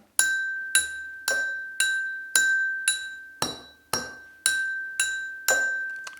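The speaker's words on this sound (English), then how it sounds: "So these are wooden chopsticks. So the distinctive of the sound is different." Wooden chopsticks tap on glass eleven times at an even pace, each a bright ringing clink that fades before the next.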